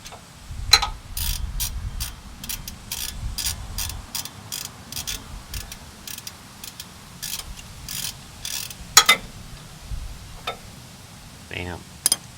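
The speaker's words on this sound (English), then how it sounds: "Put the ratchet in the on position." A ratchet wrench turns brake bolts on a Mercury Grand Marquis, making a rapid, close series of clicking pawl ticks in irregular bursts over a low background rumble, with a short voice sound near the end.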